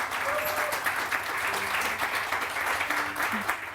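A studio audience claps steadily for a few seconds in a dense, continuous wash of applause, with faint voices blended underneath.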